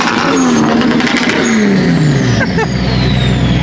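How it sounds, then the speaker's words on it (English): Loud car engine revving hard close by, pitch sweeping down between bursts with a whistling turbo-like whine above the roar. "That turbo sounds crazy."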